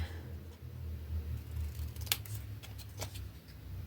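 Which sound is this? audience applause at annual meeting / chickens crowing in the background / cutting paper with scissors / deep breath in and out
cutting paper with scissors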